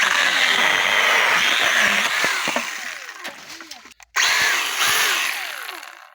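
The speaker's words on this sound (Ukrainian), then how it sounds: "пішли ще з якусь дровиняку пильнем покажемо" Cordless battery-powered saw made by Lider, with a failed warranty, cutting through a dry piece of firewood; loud, steady motor whine with rising and falling pitch as it bites, a brief cut-out near the end, then resuming.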